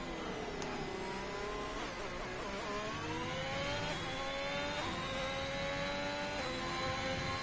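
Onboard engine of a Haas Formula 1 car in a racing video game lapping the Emilia-Romagna circuit, a high-pitched whine that climbs and drops repeatedly through gear shifts, continuous and alone at moderate volume.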